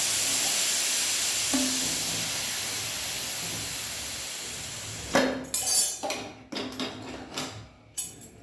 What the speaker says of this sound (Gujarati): એમાંથી વરાળ નીકાળી